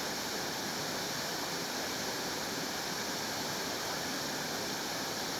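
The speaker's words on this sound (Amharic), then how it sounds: "ትልቁ ሊባል የሚችል ፏፏቴ ማየት ችለናል ማለት ነው።" A large waterfall at Gambela gives off a dense, constant rushing roar of falling water, broad and unbroken throughout, with no voices.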